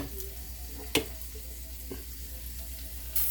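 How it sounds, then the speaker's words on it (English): Cooked cabbage simmers in its own juices in a pan, a faint low sizzle and bubbling under a quiet room, broken by a couple of sharp clicks or utensil taps. "They're going to just sit and simmer in their juices"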